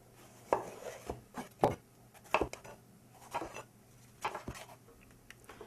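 A kitchen knife chops through a pepper on a cutting board, with about eight crisp, separate cuts in an uneven rhythm, close and moderately loud, with no talking.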